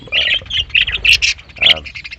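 Small pet birds in a bird colony give a quick run of sharp, harsh squawks and chatter close by, in short bursts with a brief pause before a final call.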